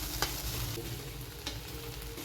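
Green chili and onion thecha topped with coriander is mixed in a hot pan, a constant close sizzle with a few sharp scrapes of the spoon, no talking.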